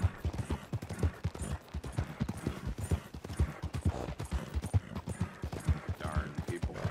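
Rapid, steady clip-clop of horse hooves trotting close by in Red Dead Redemption, a continuous rhythmic clatter with no speech over it.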